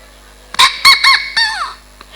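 A person imitates a rooster's crow during an Islamic sermon: three quick clipped notes followed by a longer falling call, loud and close, with no other talking.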